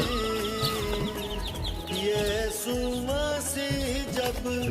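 Several chicks and chickens, some of them black, cluck and chirp continuously nearby, overlapping calls with a busy farmyard feel.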